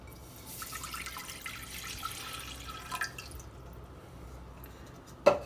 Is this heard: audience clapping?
no